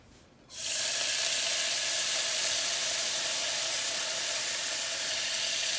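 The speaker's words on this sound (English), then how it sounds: "we have the turkey drippings here, and you're gonna take some and just add it to your pot" Turkey drippings hitting a hot pot give a sudden, loud, steady hiss of sizzling that starts abruptly and holds evenly to the end, with no voices.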